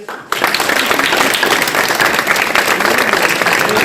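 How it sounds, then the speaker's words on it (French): An audience at a Don Quichotte stage show in Montmerle in 2023 breaks into dense, sustained applause that starts suddenly and keeps a steady, even level throughout. "On peut l'applaudir."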